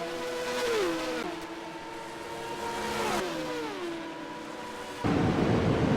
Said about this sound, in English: Let's jump on board with this stock block just for a moment and listen to that beautiful engine.